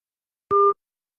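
A single short telephone busy-signal tone sounds alone against silence after a radio call-in caller disconnects.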